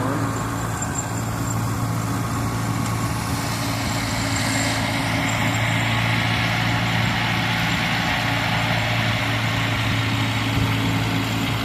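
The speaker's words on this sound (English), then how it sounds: "And you got the John Deere over here. They're tuning something up right now." A John Deere tractor engine idles steadily at a northland threshing bee, a continuous low engine drone with a faint higher whine, heard fairly close and unbroken for the whole stretch with no talk over it.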